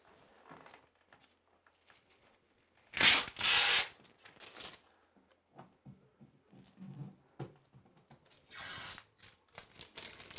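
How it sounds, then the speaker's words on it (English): A Dap Eclipse drywall repair patch is peeled off a wall. It gives a quiet, close tearing rasp in two brief louder bursts, with soft rustling and handling noises between them. "First coat is dry, so now we can peel this off right here."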